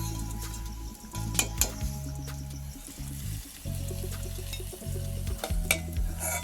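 Semolina sweets frying in oil over a low flame, a steady bubbling sizzle running throughout with occasional stirring clicks and utensil taps close by.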